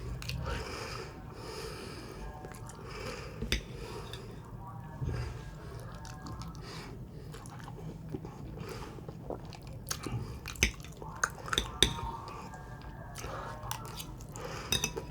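Close, wet chewing and crunchy biting of fried fish continues steadily, with occasional sniffs and faint background voices.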